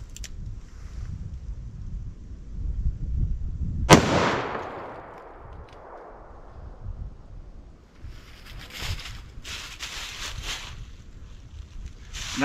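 A single sharp .44 Magnum gunshot, a 240 grain XTP round fired into wood outdoors, cracks loudly and rolls away in a long fading echo amid wind noise, followed by faint rustling.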